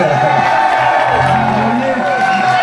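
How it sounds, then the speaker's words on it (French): Crowd cheering and applauding at a 25th anniversary celebration on the Puy de Dôme, loud continuous whoops and shouts with clapping, voices mixed in throughout. "On applaudit ma fille quand même"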